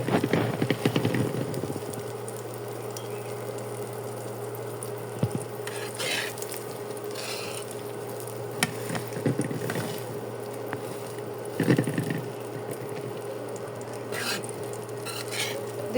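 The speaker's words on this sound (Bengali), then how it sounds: "ভালো মতো ভেজে নেব।" Breakfast food frying in a pan on an induction cooker, with a steady low sizzle, an electric hum beneath, and scattered clinks and scrapes of utensils against the pan.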